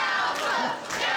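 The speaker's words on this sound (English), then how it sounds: "you can hear this Uniontown crowd jam-packed here at the Uniontown Mall trying to rally Cowpoke Paul" A jam-packed wrestling crowd at the Uniontown Mall roars and shouts in a dense, steady wash of noise, rallying behind a wrestler in a short burst.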